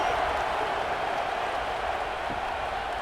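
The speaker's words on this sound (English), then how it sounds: "you think this crowd's going to get loud when their defense comes on the field?" A stadium crowd in the college football video game EA Sports College Football 26 keeps up a steady, dense roar of cheering and applause, with no distinct voices standing out.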